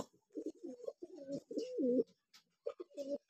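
Sirazi (Lahori) pigeons coo close by in a quiet pen, a series of soft, throaty, rolling phrases with short pauses between them.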